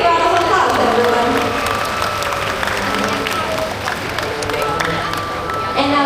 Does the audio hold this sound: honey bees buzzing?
no